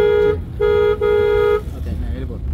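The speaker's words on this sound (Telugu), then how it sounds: "ట్రాఫిక్లో వెళ్ళిపోతున్నాం, హార్న్ కూడా టచ్ చేసుకో" A car horn honks in short bursts, two or three toots close by, as the car drives slowly through traffic during a driving lesson, with an instructor's voice in between.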